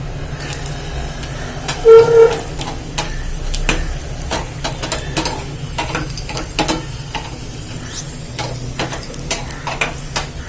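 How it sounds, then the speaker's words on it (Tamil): Sun-dried bitter gourd vatral fries in a small amount of oil, giving a loud, continuous crackle with scattered sharp pops and stirring noises throughout. "கொஞ்சமா எண்ணெய் ஊற்றி தான்ப்பா வறுக்கணும்."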